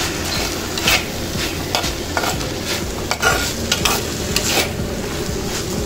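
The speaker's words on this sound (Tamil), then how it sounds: "இந்த தேங்காயை போட்டு நல்லா மிக்ஸ் பண்ணிடணும்" Grated coconut being stirred into banana flower frying in a pan, with steady sizzling and repeated scraping spoon strokes, close up and without speech.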